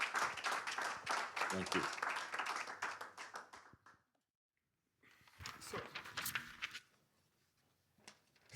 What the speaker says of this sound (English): another applause for the participants